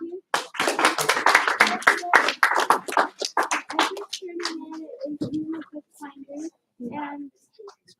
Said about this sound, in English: Give her one clap. Two claps.